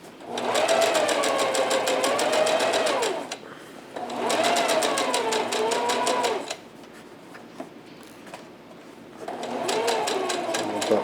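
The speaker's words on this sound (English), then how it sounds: "I'm going to gauge it with the foot of my machine and just try to slowly feed it through" Sewing machine stitching fabric for a face mask, a steady fast whirring hum in three runs separated by short pauses, loud and close, with no voices.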